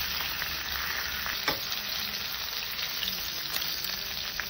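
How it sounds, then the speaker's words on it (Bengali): Khoyra fish fries lightly in hot oil, giving off a steady, close sizzle with faint crackles and no voices throughout. "মাছটা আমি খুব কড়া করে ভাজবো না, একটু হালকা করে ভাজবো।"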